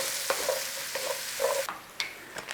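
Onions fry in a pan for a creamy sausage pasta, a soft continuous sizzle broken by repeated scraping stirs of a utensil.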